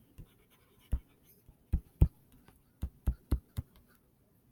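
Stylus tapping and writing on a digital screen during a math lesson, heard as a scattered series of soft, sharp taps and clicks with quiet gaps between them.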